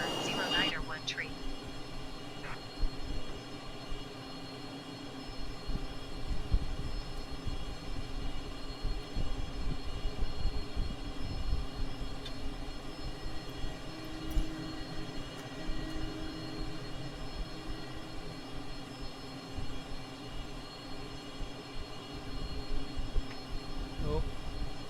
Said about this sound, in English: Taxiing to general aviation parking using taxiway Alpha